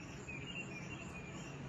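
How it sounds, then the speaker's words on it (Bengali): Crickets chirp in a steady, continuous high drone at an old shooting house in Santiniketan, faint and even beneath a low background hum, with no voices. "আমি জানি না তোমরা ঝিঝির ডাক শুনতে পাচ্ছ কিনা"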